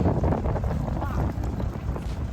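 Strong, steady wind buffets the microphone while riding a bike outdoors into a headwind, a continuous low roar throughout, with no talk.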